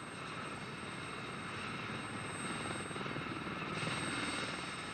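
An army training helicopter drones steadily at a distance, a dull continuous rotor and engine rumble that swells slightly toward the end, with no voices.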